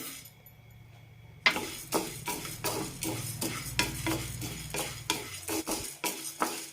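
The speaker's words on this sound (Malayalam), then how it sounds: "പരിപ്പുകൾ വറുത്തെടുക്കാൻ ഒരു അഞ്ചാറ് മിനിറ്റോളം ആകും മീഡിയം ഫ്ലെയിമിലിട്ട് വറുത്തെടുക്കാം" Dry lentils scrape and rattle in a pan over medium flame as a spoon stirs them in steady strokes, with a soft sizzle underneath; no one speaks.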